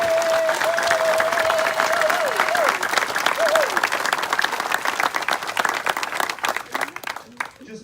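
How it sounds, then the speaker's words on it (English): Loud sustained applause and clapping from an outdoor crowd at a conservancy celebration, with some cheering and a voice heard early on, tapering off toward the end. "please join me in giving them another round of applause."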